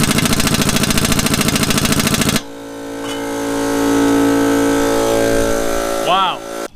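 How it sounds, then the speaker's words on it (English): Air impact wrench with a long extension hammering at a rear camber arm bolt on an 8th-gen Honda Civic Si: a loud rapid rattling burst for about two seconds, then a quieter steady hiss and hum with a brief squeak near the end. "Probably gonna put a really long extension on the impact and just see if I can impact them off."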